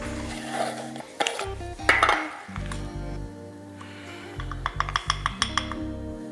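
Seasoned fish and prawns mixed in a bowl: utensil clinks and scrapes against the dish, with a few quick sharp knocks toward the end, close and moderately loud over steady background music.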